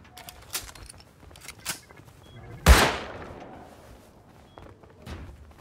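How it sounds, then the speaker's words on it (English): A single sharp gunshot rings out in a video game, a loud broadband crack followed by a decaying echo, with faint scattered shots and clicks around it and no speech. "Just got shot at."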